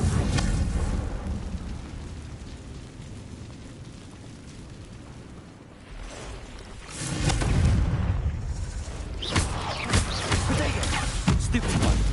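The Confringo fire-blast spell explodes in Hogwarts Legacy, producing loud booming bursts that rise over a rumbling game backdrop, with one blast midway and more following in quick succession.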